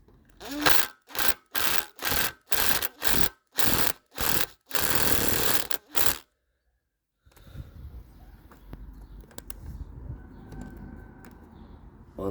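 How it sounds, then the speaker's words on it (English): Hand-turning a screw on a Mai Compactor coffee tamper gives a series of regular ratcheting bursts close up, then a short rasping turn, a silence, and faint handling noise afterward. "all you need to do is loosen up just one of the screws"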